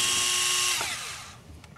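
A power tool whirs while removing 8mm head bolts from the fuel pump retaining bracket of a 1995-1999 Nissan Maxima. It gives a brief, close, high whine that spins down and fades, with no talk.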